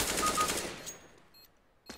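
Rapid automatic gunfire in CS:GO, a fast burst of crackling shots in the opening second that fades out, followed by a faint click and a short sharp report at the end.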